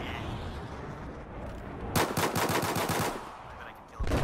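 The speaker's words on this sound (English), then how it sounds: "Are you shooting a pistol at him?" Rapid pistol gunfire from a video game, a dense burst of repeated loud shots lasting about a second, with one more shot near the end over a noisy game background.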